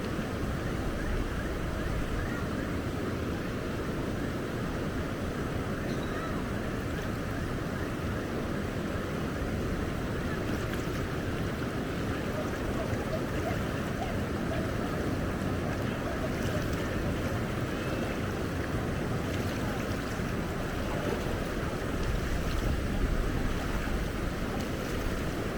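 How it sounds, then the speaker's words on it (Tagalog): A steady, broadband rush of water from a river waterfall on the Dupinga River in the Philippines, continuous and fairly loud, with some wind noise and no talk. "Oh, there's the waterfalls."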